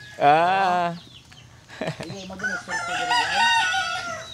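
A rooster crows loudly nearby, followed by clucking and further crowing from chickens.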